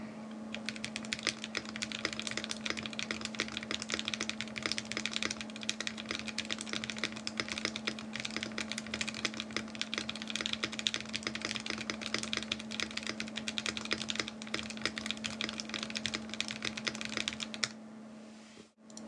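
A custom-built Emery 65 mechanical keyboard is typed on quickly and continuously in a dense, even stream of clacking keystrokes over a steady hum, stopping just before the end, with no voices.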